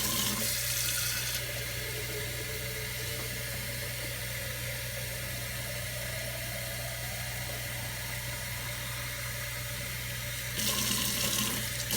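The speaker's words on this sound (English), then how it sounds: "now I'm just gonna fill it all the way up with water" Steady running water pours and fills a container, a continuous broadband rush with a low hum beneath, slightly louder at the start and end.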